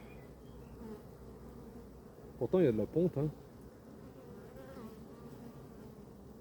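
Honeybees in a drone-laying hive give a steady low buzzing throughout, under a short burst of nearby speech in the middle.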